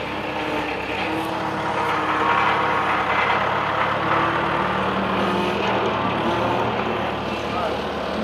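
A small Somica 750 farm tractor of roughly 70 to 80 horsepower runs steadily at close range inside a livestock barn, a continuous engine drone lasting throughout with no clear speech over it.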